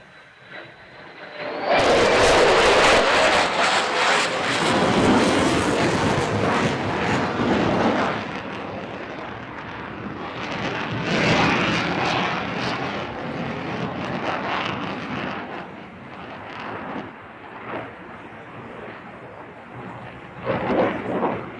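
An F-35 fighter jet roars in from the left during the Farnborough airshow flying display, a loud broadband thunder that surges abruptly and then rumbles on for many seconds with wind buffeting, tapering off before a brief late swell.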